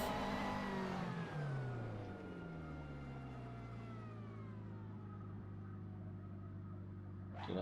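A sim racing car engine driven from a Fanatec McLaren GT3 rim: it revs high as the throttle goes down, then the pitch slides down and settles into a steady lower drone, fairly quiet, with a short noise near the end.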